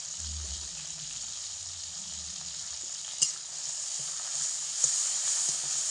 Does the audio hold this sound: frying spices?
yes